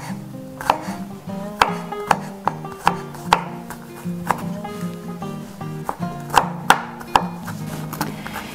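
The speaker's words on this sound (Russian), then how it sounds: "Нарезаем мелко чеснок." A knife finely chops garlic on a cutting board while shakshuka is prepared, giving a steady run of sharp, close taps in an uneven rhythm over soft background music.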